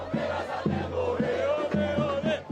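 Palmeiras football fans gathered outside the club's training centre chant in unison to send off the team, a loud steady crowd roar with rhythmic drum-like beats about twice a second and a sustained sung tone over it.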